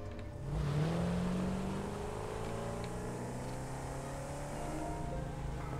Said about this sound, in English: So let's get in the Explorer. Let's go for a little drive.